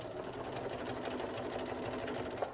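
A sewing machine stitches along the top edge of a hooded towel with a fast, even, continuous motor whir and needle chatter, close and alone.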